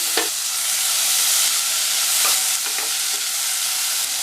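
Tomato and onion sauté in a pan for hotel-style sambar, a loud, steady close sizzle and hiss with a few soft stirring taps, no voices.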